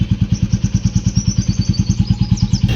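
A warmed-up Royal Enfield Bullet motorcycle engine idles close by with a steady, evenly spaced thumping beat that continues throughout.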